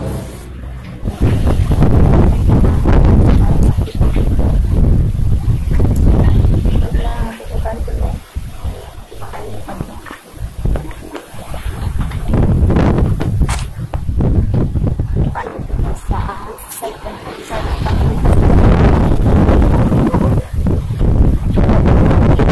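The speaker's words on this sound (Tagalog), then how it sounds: "Check ko muna kasi ang lakas talaga ng hangin." Strong wind gusts buffet the microphone with loud, roaring rumbles that surge and fade, while a voice speaks intermittently beneath the noise.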